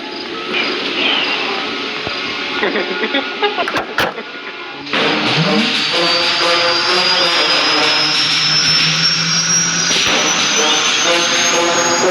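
Loud, continuous engine roar of a helicopter in the game Granny: Chapter Two, steady and droning, with a rising whine after a brief dip partway through.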